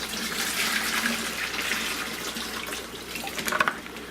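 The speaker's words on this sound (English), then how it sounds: "Now I'm just dumping this into a 5-gallon bucket." Water and fish pour from a shipping bag into a 5-gallon bucket, a close, steady splashing gush lasting several seconds with a few louder sloshes near the end.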